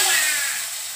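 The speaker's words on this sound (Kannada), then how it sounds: "ಒಗ್ಗರಣೆ ಸೌಂಡು ಇವಳಿಗೂ ಇಷ್ಟ, ನನಗೂ ಇಷ್ಟ. ಸರ್ರ ಅಂತ ಒಂದು ಸೌಂಡ್ ಬರುತ್ತಲ್ಲ" Oggarane tempering for a palak mosoppu dish, hot oil hitting the greens, gives a loud, steady broadband hiss that fades gradually over a second, with no talk over it.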